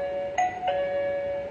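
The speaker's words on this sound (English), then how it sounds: "So once we ring the doorbell," A smart wifi fingerprint door lock's doorbell chime sounds two quick electronic tones, close and clear, followed by a sustained ringing tone that fades slowly.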